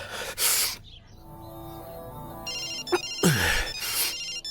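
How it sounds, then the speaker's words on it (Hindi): Telephone ringtone from a movie scene, an electronic ringing pattern playing in repeated bursts with brief quiet stretches between, fairly loud and close with no talk over it. "भाई, मंत्री जी का फोन है।"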